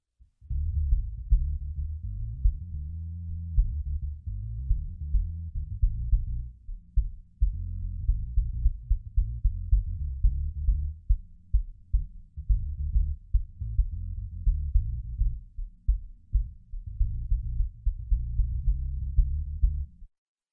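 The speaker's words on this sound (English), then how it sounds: "the aux output has all the frequencies chopped off except 85 Hertz and below" Deep, low-passed program audio from a Mackie Master Fader aux output feeding subwoofers, with everything above 85 Hz removed, leaving a steady throbbing, pulsing bass rumble that runs continuously and fairly loud throughout.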